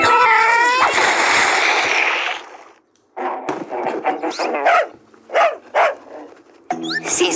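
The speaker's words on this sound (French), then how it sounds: "L'idiot de chien des voisins, au moins on l'entend." Neighbours' dog barking in an animated scene: a loud harsh burst of noise first, then a string of separate sharp barks and yelps at uneven intervals, close and prominent, with a brief silent gap between.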